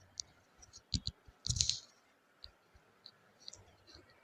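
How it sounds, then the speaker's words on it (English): Computer mouse clicks sound close and crisp, with a couple of louder double clicks and then sparse lighter ticks as buttons are selected on a crypto trading site. A quiet room is behind them, with no talk. "So I'll click on sell again"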